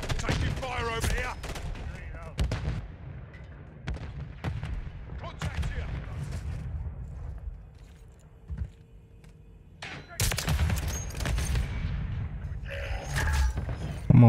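Call of Duty firefight on the Terminal map, with sharp gunshots and bursts cracking near and far, a quieter lull midway, then heavy firing again. Voice callouts are heard now and then.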